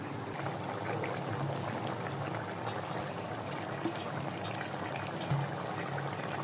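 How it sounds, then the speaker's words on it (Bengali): Water is poured steadily into a pan of fish curry, making a continuous soft, faint rushing that holds at an even level throughout. "এখন আমরা একটু পানি দিয়ে দিচ্ছি, ঝোল মাছটাকে সেদ্ধ করার জন্য দিতে হবে।"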